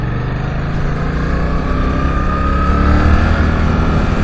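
A Suzuki GSX-8S twin-cylinder motorcycle engine pulls hard and steadily, its deep throbbing note swelling slightly as it accelerates and revs freely, loud and close.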